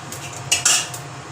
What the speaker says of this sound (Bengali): তেল দিয়ে দিয়েছি কড়াইতে। এবার এতে একটু মৌরি ফোড়ন দিয়ে দিলাম